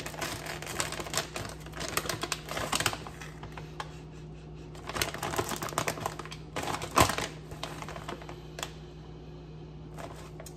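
A bag of apple cider vinegar Kettle Chips with no tear strip is pulled open close by, with irregular crinkles and crackles of the foil bag coming in bursts over a low steady hum.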